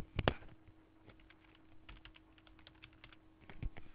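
Keystrokes on a computer keyboard while entering data in Korean accounting software, a sharp cluster of clicks near the start followed by scattered light taps and a final burst, quiet and close with no talk.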